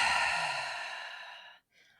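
A slow, calming sniff-style breath drawn in and let out, steady and fairly close, fading into a brief pause then a faint second breath; no talking.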